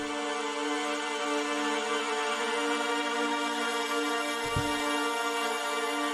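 Layered synth pads for a dark UK drill melody, one layer pitched a full octave up, sustain as a dense, steady tonal wash with a brief low thump near the end and no voices.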